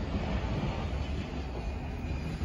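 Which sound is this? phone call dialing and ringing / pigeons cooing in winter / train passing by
train passing by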